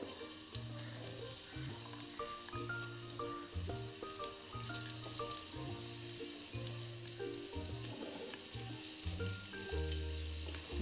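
Vegetables frying in about two spoonfuls of oil in a kadai, a soft continuous sizzle and crackle at low level beneath faint tonal background sound, no talking.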